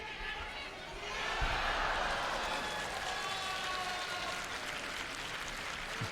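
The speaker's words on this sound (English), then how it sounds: "Cheer that you hear in the background is for Abe Uta, who's just thrown Astrid Neto for Ippon on that number 2." A judo tournament crowd at the Tokyo Grand Slam cheers after an ippon throw on a far mat, a broad swelling roar rising after the first second and holding in the background of the arena.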